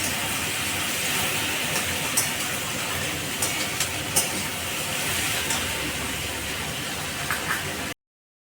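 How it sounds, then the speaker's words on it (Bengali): Ginger and eggplant fry in a pan for a Bengali begun ghonto, giving a steady broadband sizzle throughout with a few faint crackles, and no voice. "এই আদাটা আমি দিয়ে দিলাম বেগুনের সাথে একটু আদাটা ভাজা হোক"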